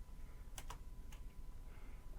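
Keys on a computer keyboard are struck in a few brief, faint taps with pauses between them, alone against a low steady background hum.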